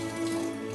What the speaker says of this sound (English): and wash the seeds out